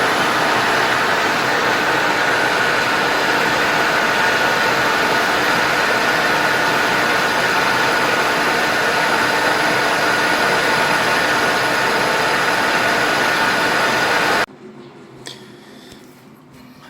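A lathe bores out a metal elbow with a larger boring bar, a loud, steady broadband machining hiss and whir lasting about fourteen seconds before cutting off abruptly to quiet clicks and rattles.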